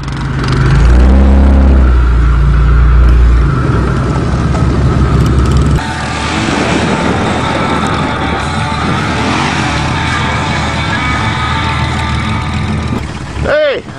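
A car engine revs loudly up close, a strong low roar that drops back to a rougher mid-pitched running note partway through, with people talking over it.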